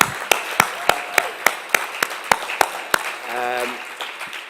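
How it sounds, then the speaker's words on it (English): Sparse, sharp clapping from a small audience at a science centre anniversary celebration, about a dozen distinct claps in a loose rhythm, ending as a voice begins. "Let's give her a round of applause."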